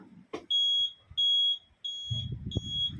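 After a right turn indicator is switched on in a diesel car being converted to electric, an electronic signal beeps four times in an even rhythm, with clicks and rustling handling noise around it.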